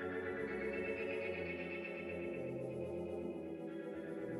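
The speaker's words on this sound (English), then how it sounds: "now the delay, the wet sound of the echo, is going into the reverb." A synth tone smeared with repeating delay echoes that wash into a long reverb tail, sustained and dense with no voice.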